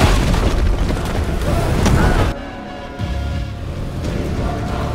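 A film explosion blows up a holy place, a loud, heavy roaring boom that rumbles for about two seconds, cuts off abruptly, then gives way to a lower sustained rumble of fire and debris.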